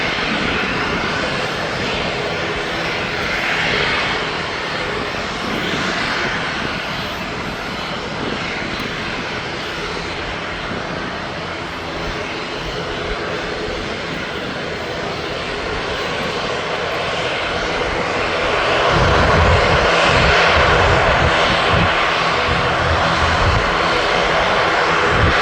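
An Aer Lingus aircraft on the Dublin flight at Birmingham Airport gives a long, steady engine roar, fairly near, with a low rumble that grows louder toward the end.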